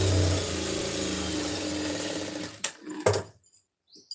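Sewing machine stitching a blouse lining runs steadily and loudly for about two and a half seconds, then gives a few short bursts and clatters before stopping.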